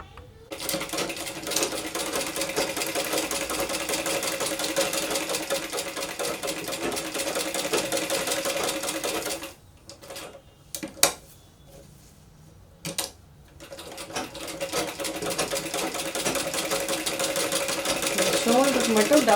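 A sewing machine stitches the shoulder seam of a baby frock, a fast, loud, continuous whirring chatter that pauses briefly with a few clicks, then starts up again and keeps running.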